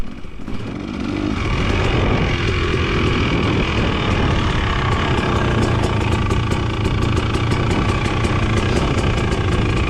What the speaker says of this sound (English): Just warming up for Lance, but that's near race pace for me